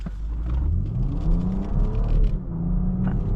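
A 2025 BMW X5 xDrive50e M Sport SUV engine revs up and accelerates steadily, a loud close rising whir and rumble with climbing tone, no voices.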